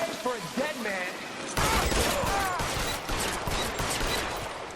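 Rapid pistol shots in the video game L.A. Noire crackle in a dense, loud volley through a combat scene, with speech mixed in.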